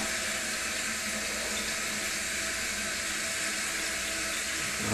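A toilet tank refills through its fill valve after a flush, a continuous, loud hiss of rushing water that holds steady from start to finish.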